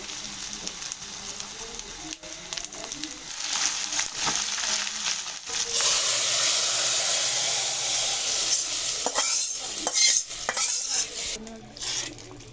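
Bay leaves and ginger frying in hot oil in a pan while making khichuri, a steady close sizzle with intermittent stirring and scraping against the pan, no talk.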